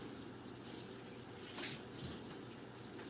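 Kitchen tap water runs steadily as something is rinsed off after handling raw beef tips, a soft, even splashing stream heard close and alone.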